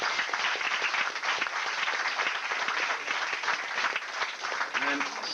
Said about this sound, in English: How about a round of applause for our host, Jean-Pierre?